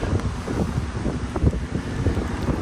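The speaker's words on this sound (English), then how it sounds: "There was also a lot of wind" Strong wind buffets the microphone on an open golf course, a loud, steady rumbling roar with gusty fluctuations and no talking.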